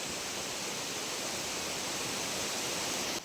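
The steady, dense roar of Bolinao Falls fills the air as a continuous wash of falling water, loud and close with no voices over it.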